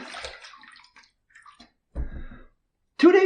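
Water splashes and gurgles as a stainless steel safety razor with a straight bar base plate is rinsed under a tap, in short bursts broken by pauses, the last burst louder and closer.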